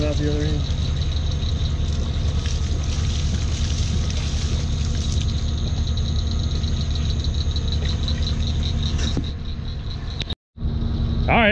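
A Kubota tractor engine runs nearby at a steady, loud idle with a continuous low rumble and faint knock. It eases briefly near the end and then resumes.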